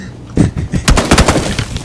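Video game gunfire: a short cluster of loud, rapid shots fired in quick bursts, close and punchy, with no talk over them.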